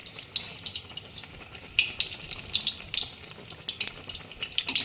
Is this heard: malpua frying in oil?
yes